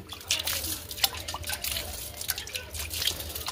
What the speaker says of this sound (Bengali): তাহলে এই জলটা আমরা কিন্তু গাছের মধ্যে সম্পূর্ণ স্নান করিয়ে দেব।